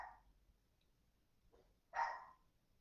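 Dogs indoors react to contractors working at the house, giving a couple of faint, distant barks followed by one louder, nearer bark, with no talk.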